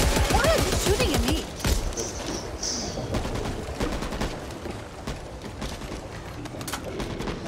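Rapid gunfire in Back 4 Blood, a scattered burst of close sharp shots crackling over a dense noisy game backdrop, with brief high tones and voices murmuring underneath.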